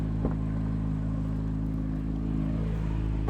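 A 2023 Chevrolet Corvette Z06 drones steadily from inside the cabin, its engine holding an even, humming tone with strong low harmonics that never let up.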